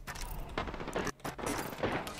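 FPS video game gunfire, rapid bursts of shots and impacts in quick succession with a brief lull midway, fairly faint, without speech.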